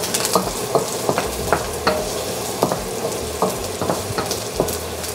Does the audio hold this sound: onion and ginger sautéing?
yes